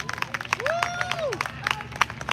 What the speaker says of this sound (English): Y'all clap it up for Passaic County.